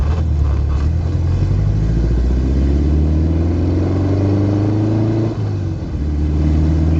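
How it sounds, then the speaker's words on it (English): An old Volkswagen Beetle-style car engine revs through a 4-in-1 exhaust with a muffler, a loud, close rumble rising in pitch across several seconds, dipping briefly near the end before climbing again. "look, the 4-in-1 has a muffler, it's not direct, huh?"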